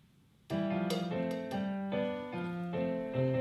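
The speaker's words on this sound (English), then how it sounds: "the basic rhythm in salsa is piano montuno" A piano plays a syncopated, repeating pattern of chords and octaves, bright and close, in a steady looping rhythm.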